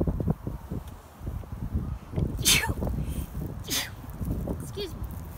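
Someone sneezes sharply amid outdoor rustling and wind, with low voices talking around it.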